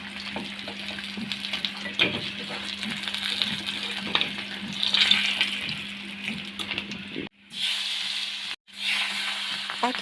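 Pieces of rohu fish fry in hot oil with a steady crackling sizzle that runs continuously, broken by two brief near-silent gaps toward the end.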